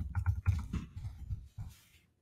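Quiet, close typing on a computer keyboard, a short burst of several soft key clicks in an uneven rhythm that fades out to silence.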